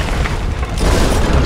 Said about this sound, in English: Good old explosion.